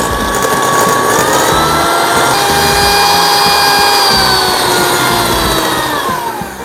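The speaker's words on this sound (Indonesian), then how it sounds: "Di sini saya akan mengkocok whipping creamnya." A hand-held electric mixer whips cream in a bowl for a Swiss roll cake, giving a loud, steady motor whine that holds evenly throughout and eases off slightly at the end.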